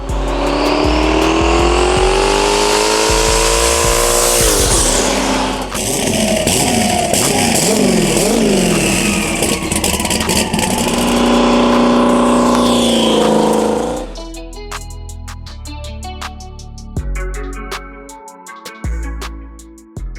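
A 1,200 horsepower turbo Trans Am with a 388 cubic inch LS engine, 91mm turbo and Holley EFI roars loud and close, revving up and down in rising sweeps, then drops to a rough, popping idle with sharp crackles.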